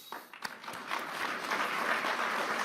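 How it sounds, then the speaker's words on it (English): An audience at the World Economic Forum applauds for the President of Argentina, starting with a few scattered claps and swelling into faint, distant, continuous applause. "I think the President really should get an applause for that"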